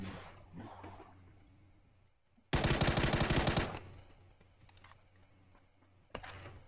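A loud burst of rapid automatic gunfire in PUBG, lasting about a second, with a single sharp shot later and quieter game ambience around it.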